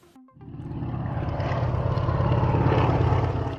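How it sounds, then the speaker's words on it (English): Propeller airplanes fly overhead with a droning engine roar that swells in after a brief click and holds steady and fairly loud. Nobody speaks. "These planes are flying well today."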